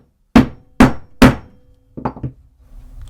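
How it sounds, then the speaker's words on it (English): Three sharp hammer taps on the point of a nail set against wood, evenly spaced and close, followed by a softer cluster of lighter knocks and handling sounds. "tap the edge of the nail with your hammer, just like that."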